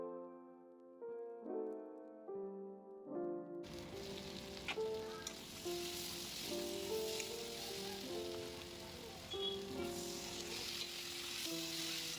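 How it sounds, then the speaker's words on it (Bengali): Tomato sautéing in a spicy Bengali amodi fish curry with potatoes, a steady close sizzle and frying crackle that starts abruptly after a few seconds of tonal background music, with music continuing faintly underneath. "এই দেখুন এখানে টমেটোটা দিয়ে দিলাম, দিয়ে এবার এইটাকে নিয়ে একটু কষিয়ে নেব"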